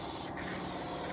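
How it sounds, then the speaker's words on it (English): Spray gun atomizing Alpina Ice White paint onto a BMW E36 fender, a steady close broadband hiss that runs the whole moment with one brief dip before resuming. "Today we're spraying that, this, that fender, and then the front cradle."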